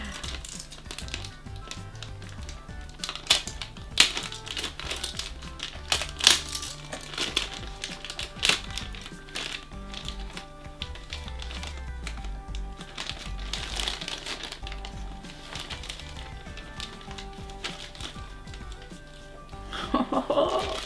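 A parcel holding a Pullip doll is opened, with close, irregular crinkling and rustling of plastic packaging plus small clicks and taps, and quiet speech now and then.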